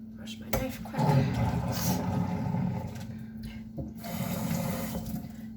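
Kitchen sink tap running steadily while a knife is washed under it, a continuous close splashing water stream with a person talking over it.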